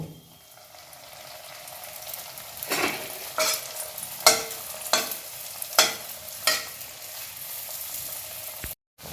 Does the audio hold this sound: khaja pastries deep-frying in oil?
yes